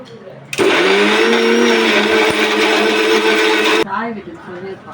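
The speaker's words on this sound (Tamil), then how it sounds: "இப்போ நான் அரைச்சிக்க போகிறேன்." A mixer grinder whirs loudly as it grinds spice paste for crab masala gravy. It starts abruptly, runs with a steady high motor whine for about three seconds, then cuts off.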